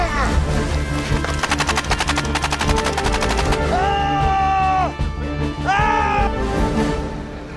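Rapid bursts of gunfire ring out during a military battle training exercise in stormy hill country, close and loud, mixed with shouted commands and whistle-like tones.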